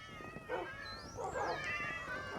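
A cat meows in an island-building video game, one drawn-out rising and falling call near the middle over a quiet, steady background hum, with no talking.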